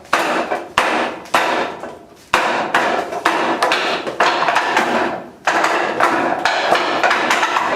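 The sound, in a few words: forearm strikes on a wooden Wing Chun training dummy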